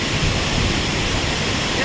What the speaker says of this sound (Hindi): अभी हम पहुंच जाए झरना के झरना का नीचे में